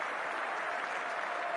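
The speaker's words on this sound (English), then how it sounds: "So a delayed reaction applause from" The cricket crowd at Lord's breaks into steady, even applause, a dense wash of clapping that holds at a constant level throughout.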